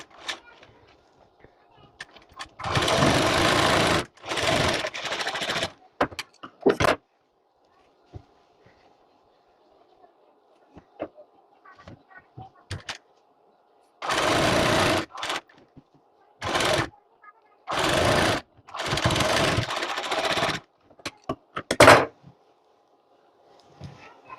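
A sewing machine stitches the shoulder and side seams of a blouse in short, loud bursts, each run separated by pauses where soft speech and handling noises fill the gaps.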